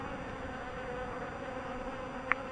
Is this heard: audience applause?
no